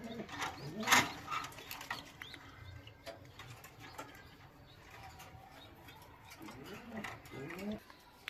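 Racing pigeons in a breeding loft coo in soft, repeated rolling calls, a few distinct bursts near the start and toward the end over faint room noise.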